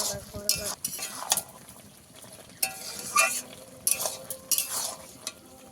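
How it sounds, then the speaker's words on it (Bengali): Ghugni curry with potatoes being stir-fried with spices in a pan, the spatula scraping and clattering in irregular bursts over a continuous sizzle. "কষিয়ে কষিয়ে ঝোলটাকে একদম মারিয়ে নেবো"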